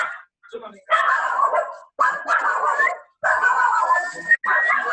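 A dog whimpers and barks in several bursts separated by short silences, high whining yelps close by, with speech heard around them.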